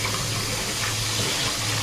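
Tap water runs steadily and fairly loudly while a used kasirola cooking pot from a pork tail dish is rinsed out, a continuous hiss and splash with no pauses.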